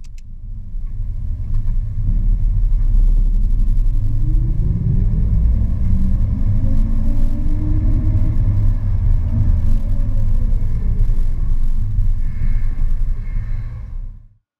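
A 1978 Toyota Land Cruiser FJ40 engine rumbles steadily while driving, a deep continuous low drone with a gentle rise and fall in pitch, close and loud throughout.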